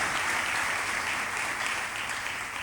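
A church congregation applauds during a pastor's sermon, a steady wash of many hands clapping at moderate volume that stays even from start to finish, with no voices over it.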